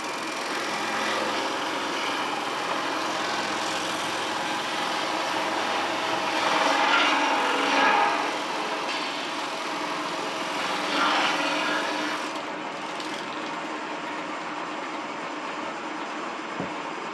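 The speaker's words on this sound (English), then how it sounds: "It's like a poor man's thickness planer." A Shopsmith working as a thickness planer on wood gives a continuous whining, rushing machine roar, steady and fairly loud, swelling a couple of times as the board feeds through before easing slightly.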